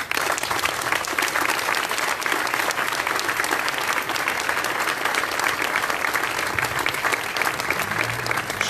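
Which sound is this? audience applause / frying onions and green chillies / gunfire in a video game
audience applause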